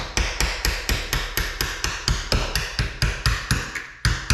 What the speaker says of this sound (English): And all I'm doing is just hammering this out.